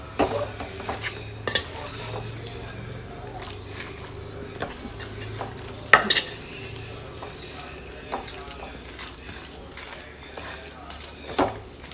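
Food is stirred and mixed in a pan with repeated clinks and scrapes of a utensil against metal, a few louder knocks scattered through, while a voice talks quietly alongside in a kitchen.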